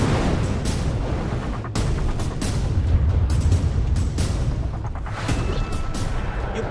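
Artillery fire and explosions in wartime Chernihiv, Ukraine, form a continuous heavy low rumble with repeated sharp blasts over several seconds, loud and dense with no voices.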